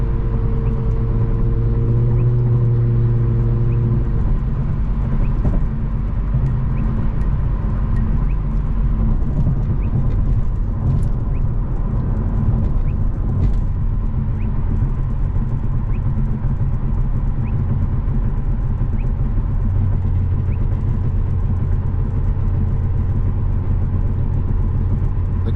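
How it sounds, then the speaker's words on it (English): Exhaust of a tuned Infiniti Q60 heard from inside the closed cabin at night, a loud, continuous low rumbling drone with engine pitch rising and falling through shifts, no talking. "All the exhaust noise that you're hearing is inside the cabin"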